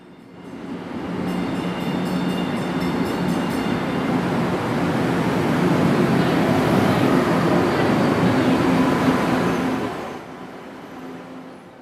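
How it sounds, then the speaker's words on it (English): Subway train running through a station during a heavy Hurricane Irene downpour, a loud steady rumble and roar that swells, holds for several seconds and then fades away. "we headed toward the subway"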